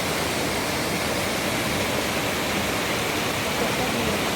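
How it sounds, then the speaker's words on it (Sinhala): A forest stream in Sinharaja rushes in a constant, broad, full hiss of flowing water, close and unbroken throughout, with no voices. "බලන්න ලස්සන දිය දහරාව."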